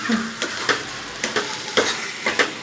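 Amla jam being stirred in a pan with cardamom powder, a spoon scraping and squelching in steady strokes about every half second, close and fairly loud with a faint sizzle beneath and no talking.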